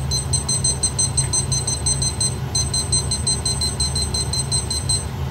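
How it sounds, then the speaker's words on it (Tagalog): Kitchen timer beeping in rapid repeated bursts, with a brief pause midway before the pattern resumes, over a steady low hum of cooking in the background. "lagyan natin siya ng timer na 1 oras muna"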